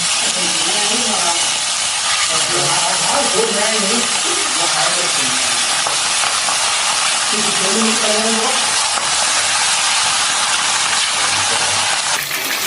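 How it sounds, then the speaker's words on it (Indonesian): Chicken sizzles loudly in hot oil in a wok, a constant bright hiss and crackle, with a voice speaking briefly underneath at times. "Di sini kita siapkan wajan dan minyak. Kalau sudah panas, kita masukkan ayamnya."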